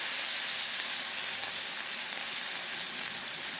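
Garlic and chili peppers fry in a pan while being stirred, a loud continuous sizzle close up with a bright hiss that stays level throughout, no voices over it.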